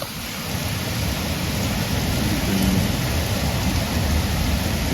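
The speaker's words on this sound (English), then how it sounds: "It is that soaking rain everybody asked for." Heavy soaking rain pours steadily in Leakey, Texas, a dense constant roar with low rumbling that suggests distant thunder, no voices present.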